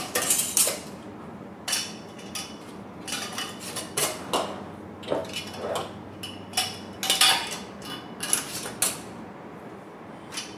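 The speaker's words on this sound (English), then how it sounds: "it's important to get those lids snapped on and tighten them all down." Lids being snapped onto storage containers for dry goods and twisted tight, a run of close, sharp plastic clicks, snaps and creaks in irregular bursts, with no talk.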